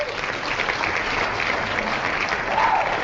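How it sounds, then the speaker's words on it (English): A crowd applauds steadily for about three seconds, a dense, even wash of clapping with no pauses and no talk over it. "Where's the applause for that comment?"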